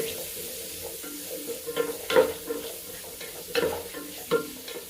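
Capsicum, chillies and onion sauté in hot oil, making a close, continuous sizzle with a few louder scrapes and knocks as the pieces are stirred.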